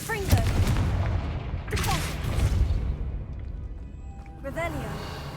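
Confringo fire spell blasts in Hogwarts Legacy, two or three loud booming bursts with crackling tails and whooshing magical swirls, spaced a couple of seconds apart, with no speech over them.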